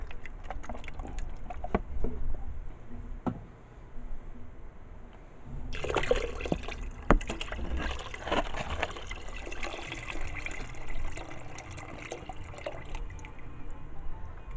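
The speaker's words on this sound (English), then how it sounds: "Now I add my beef or chicken broth." Beef or chicken broth poured from a carton into a soup pot for homemade chicken and noodle soup, a steady close liquid gush and splash that swells partway through and continues to the end, with no talking.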